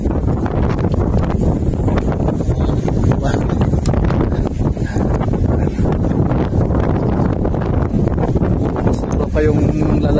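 Strong wind blows across an outdoor fishing spot, a loud, steady roar buffeting the microphone without pause for ten seconds.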